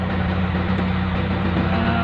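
A boat or vehicle engine idling steadily at close range, a continuous low droning hum with even harmonic tones and no change in pace, heard alone without talk.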